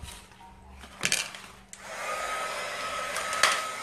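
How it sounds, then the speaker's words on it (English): A heat gun warming vinyl on a painted canvas blows with a steady airy roar that builds after a few handling knocks and continues to the end, fairly close. "It's my heat gun."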